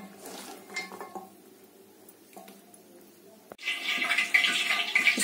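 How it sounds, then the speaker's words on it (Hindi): Spiced okra (bhindi) is mixed with a little water in a bowl: soft scraping and clinks of a utensil, then a louder, wetter burst of stirring and clattering. "अब हम इसको मिक्स दे देंगे ताकि ये अच्छे से बाइंड हो जाए"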